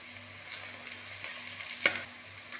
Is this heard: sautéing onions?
yes